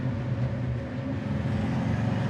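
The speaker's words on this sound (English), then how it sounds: "We'll downshift it from 4th to 3rd." A 1958 Chevrolet Impala engine drones steadily from inside the car as it is downshifted from fourth to third, a low continuous rumble with no talk.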